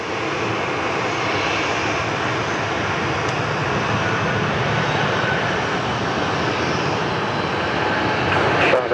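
Qantas flight 63 bound for Johannesburg takes off from Sydney Airport, a heavy jet whose engines make a loud, steady roar that fills the whole stretch.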